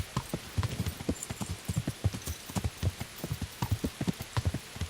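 Horse hooves clip-clopping in the video game Kingdom Come: Deliverance, a brisk steady run of hollow thuds up close, with a faint rain-like hiss behind them and no talking.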